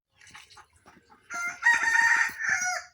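Hens cluck in short bursts at a small egg-laying poultry farm, then a loud nearby rooster crow sweeps over the last half, with clucking around it.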